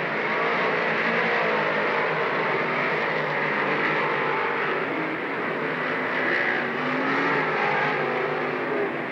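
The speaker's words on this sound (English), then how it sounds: "Gabaney around Gaitis into turn 3 for 6th." Dirt modified race cars thunder around the Lernerville track in a feature race, a dense, continuous roar of engines from the pack without a break.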